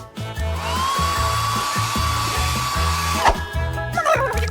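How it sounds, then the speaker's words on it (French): A hair dryer blows steadily and loudly for about three seconds, its whine holding a constant pitch, then cuts off; a rhythmic kitchen-show backing track plays underneath throughout. "le sèche-cheveux, ça va être beaucoup plus pratique"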